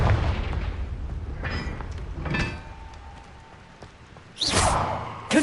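Confringo fire spell explosions in the video game Hogwarts Legacy: a few separate booming blasts with crackling bursts, one at the start, another midway and a sharp loud burst near the end, with quieter gaps between.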